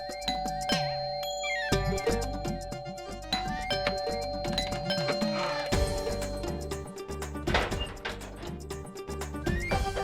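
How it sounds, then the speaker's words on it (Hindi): A doorbell chimes over and over at a home, its ding-dong tones repeating insistently and fairly loud, one ring piling onto the next. "अरे ये डोरबेल है, कोई मंदिर की घंटी नहीं जो 21 बार बजानी पड़े।"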